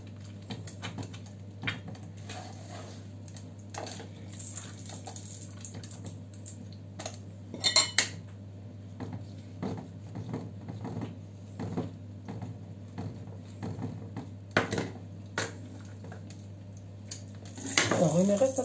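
Dishes and cutlery clink and clatter in a home kitchen sink during cooking of stuffed peppers and meatballs, with scattered light knocks and scrapes over a steady hum, a louder clatter near the end, and occasional faint voices.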